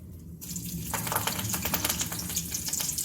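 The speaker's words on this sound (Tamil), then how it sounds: "எண்ணெய் கொஞ்சம் ஊற்றிட்டு 2 காஞ்ச மிளகா," Dried red chillies and curry leaves sizzle in hot oil, a dense crackling spatter that flares up after a brief quieter start and keeps popping close by.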